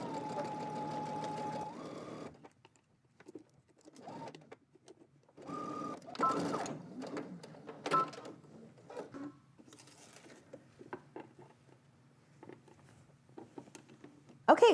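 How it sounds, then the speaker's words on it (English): A sewing machine runs in short whirring bursts, stopping and starting, with a voice talking between stitches. "now you're gonna go to your sewing machine, you're gonna stitch starting on this end"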